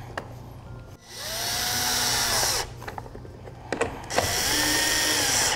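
A power drill reinstalls the junction box cover on a trailer breakaway kit, with two long bursts of close, loud whirring motor whine that rises and falls in speed, separated by a short pause.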